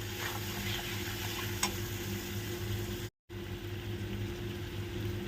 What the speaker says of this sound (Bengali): এই আলু, পেঁয়াজ, টমেটো সব একদম লো ফ্লেমে আস্তে আস্তে করে ভেজে একদম নরম